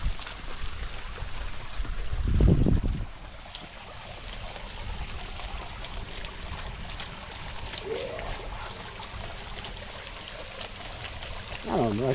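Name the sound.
water flowing into a backyard pond liner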